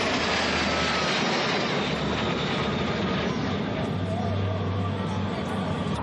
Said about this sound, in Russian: на горизонте появляется пилотажная группа «Русь»